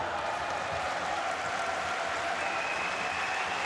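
Crowd noise at a FIFA Futsal World Cup 2021 match between Spain and the Czech Republic, a steady roar of cheering and clapping from the indoor arena stands that holds evenly loud throughout, with no pauses or voices standing out.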